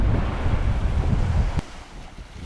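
Strong, steady wind roars and buffets over the microphone during a landing at Gibraltar airport in windy conditions, then eases to a softer gusting hiss after a brief click partway through.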